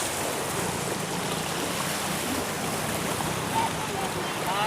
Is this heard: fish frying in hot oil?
no